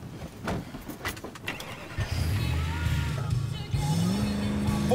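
A video game car revs and pulls away after a brief burst of gunfire-like clatter, its engine tone rising and holding loud and close for the last few seconds over a busy battle background.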